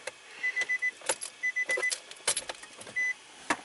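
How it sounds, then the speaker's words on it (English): Ignition key turned to on in a 2010 Nissan Rogue AWD: a short series of electronic chimes, a few clicks and relay ticks inside the quiet cabin, no engine running. "Let's turn the key on."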